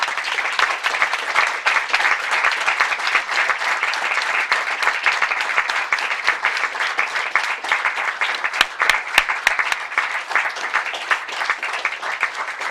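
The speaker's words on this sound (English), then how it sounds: "I want you to give them a round of applause" A large audience at a Royal College of Surgeons diplomate ceremony gives a round of applause, with dense, loud and continuous clapping for the full stretch.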